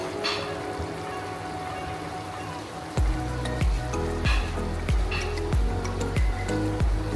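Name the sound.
bhetki fish added to boiling curry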